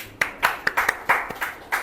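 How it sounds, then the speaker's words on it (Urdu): A meeting audience claps for a Mufti at a school campus gathering, a sparse scattering of individual hand claps in an irregular rhythm, close and fairly loud, without talk. "مفتی صاحب کے لیے تالیاں"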